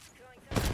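Gunfire in an online shooter video game, a loud burst of shots starting abruptly halfway through after a quieter stretch.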